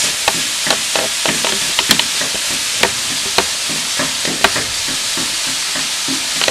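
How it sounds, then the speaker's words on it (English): Minced ground beef browning in a hot pan, a dense continuous sizzle with sharp crackles and occasional utensil knocks scattered throughout, close and loud. "we're going to add in the minced ground beef. So let me put that in. And we're just going to brown this."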